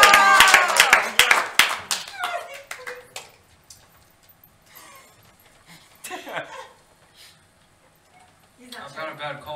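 Game show audience clapping in a loud, dense burst of applause that quickly fades, followed by scattered talk and brief reactions.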